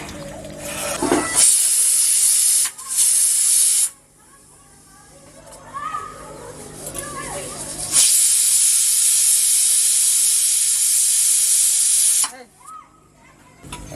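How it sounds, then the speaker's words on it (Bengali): Pressure cooker hissing loudly as rajma dal cooks on a kitchen stove, with two long steady jets of steam spread across the clip and brief pauses between them, plus faint voices in the background. "প্রেসার কুকারটা বসিয়ে দিই, ডাল সিদ্ধ হোক"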